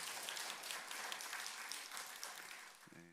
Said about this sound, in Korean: 우리 수고한 한결이 박수 한번 쳐주세요.